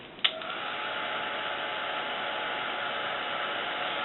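A heat tool warms a coil of curled fishing line, giving a steady, even blowing hiss after a short click at switch-on, close and unbroken throughout.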